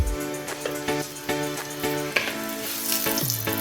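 Besan roti sizzles steadily in ghee on a pan, a continuous frying hiss with repeated light tapping and scraping touches throughout.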